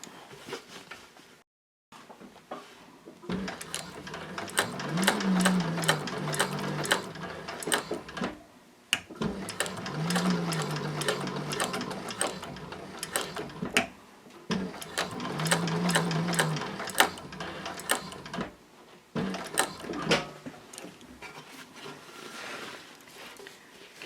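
A Techsew 4800 Pro sewing machine stitching across fabric after a pivot, running in three or four mechanical bursts of rapid clattering stitches, separated by short pauses.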